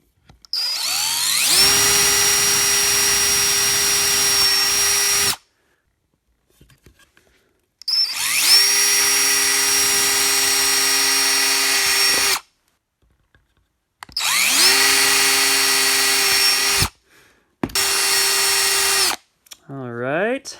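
Power drill boring a 17/64 inch hole, running in four loud bursts of steady whine that start and stop abruptly with short pauses between, the last burst brief.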